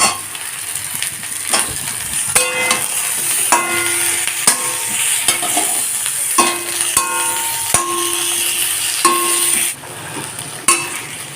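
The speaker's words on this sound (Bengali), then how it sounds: "ডাটাটা ভাজা হয়ে গেছে এখন টমেটোগুলোকে দিয়ে দেব" Tomatoes added to moringa drumsticks frying in a pan over a low flame sizzle steadily, broken by repeated scraping strokes and sharp metallic clinks of a spatula against the pan.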